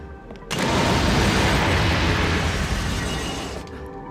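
T9 bombs explode in the video game Carrier, a sudden heavy blast that swells into a loud, sustained roar lasting about three seconds before cutting off.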